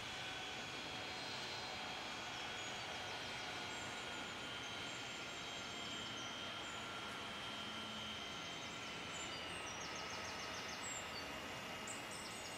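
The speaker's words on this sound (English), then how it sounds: "let's head on over and check out this Airbus 319 coming on in, the Delta" Simulated Airbus A319 airliner arriving at Raleigh-Durham International Airport in Tower! Simulator 3, a steady, continuous engine roar and whine with wind-like broadband noise holding throughout, no voices present.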